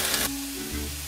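Shrimp dropped into a hot pan of olive oil, butter and onion give a brief, loud burst of hissing sizzle that settles into a softer steady fry, with no talking.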